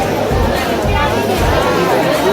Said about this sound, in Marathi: खूप गर्दी आहे, एवढी पण नाही, हळूहळू गर्दी वाढत चाललेली आहे.